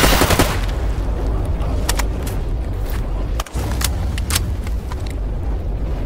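Scattered gunshots from the shooter game Stalker GAMMA, several sharp cracks spread over a constant low engine-like rumble, some near and some more distant.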